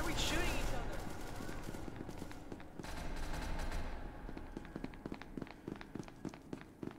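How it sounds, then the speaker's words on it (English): Rapid automatic gunfire from a PP gun in a video game, dense continuous bursts in the first few seconds, then scattered sharp shots and clicks trailing off, fairly loud and close. "Why are we shooting each other?"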